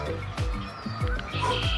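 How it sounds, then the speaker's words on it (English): Geese honk close by in repeated short, nasal calls coming in a steady rhythm, loud and clear with no talking. "And the geese, here they come."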